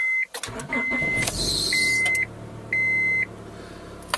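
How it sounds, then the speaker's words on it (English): A car engine catches and settles into a low, steady idle after a dead battery is boosted, with several short electronic dashboard chimes beeping over it. "I'm going to let this idle for a while, let the alternator charge that battery up for a bit."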